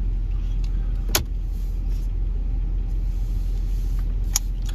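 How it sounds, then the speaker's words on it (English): Vehicle climbing a sand ramp at White Pocket, Arizona, with a continuous low engine rumble and a couple of sharp clicks, no talking. "All you have to do is just get up that ramp."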